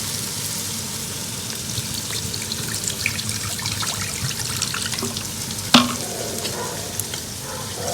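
Water is poured into a hot pan of frying curry paste, a steady sizzle and stirring throughout with a sharp clatter partway through.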